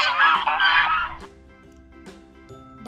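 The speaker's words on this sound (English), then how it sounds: "D for duck." A single duck gives a loud, nasal, honking quack lasting about a second, then a faint quiet stretch with soft clicks.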